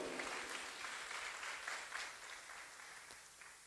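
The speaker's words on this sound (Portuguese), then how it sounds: "Pode aplaudir." A church congregation applauds together, a faint, steady patter of many hands clapping at a distance that slowly tapers off.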